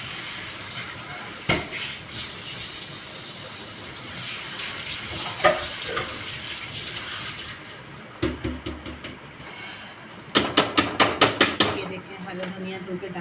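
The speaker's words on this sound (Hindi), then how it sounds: "मैं हरा धनिया धो रही हूँ" Fresh green coriander being rinsed under a running kitchen tap, a steady broadband wash of water with occasional splashes and a burst of clattering handling sounds near the end; close and moderately loud, with speech heard intermittently.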